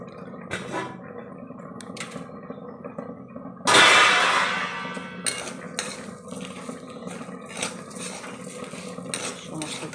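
Cashews and raisins tipped into a hot pan while making Gobindobhog rice pulao, a sudden loud sizzling burst that gradually fades, surrounded by light clinks and scraping of utensils.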